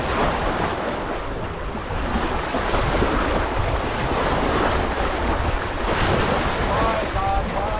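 Strong wind buffets the microphone by the Detroit River while waves wash steadily, a loud, continuous roar of gusts and surf with no break throughout.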